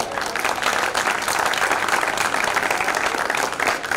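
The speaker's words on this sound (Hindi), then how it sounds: "मैं चाहता हूँ अभिषेक जी के हिस्से की तालियां वापस कर दी जाए" An audience at a Hindi poetry recital claps in sustained, dense applause, loud and even throughout with no gaps.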